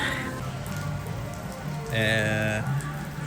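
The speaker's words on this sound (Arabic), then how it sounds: "الدنيا بتشتي جامد." Heavy rain falls steadily in a constant wash of hiss, with a voice speaking briefly over it.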